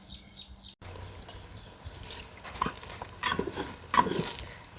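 Eggs and spring onions being stir-fried in a pan, with scraping and stirring clatter, a few sharper knocks of utensil against pan over a soft sizzling hiss, moderately close.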